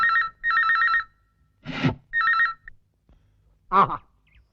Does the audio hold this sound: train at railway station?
no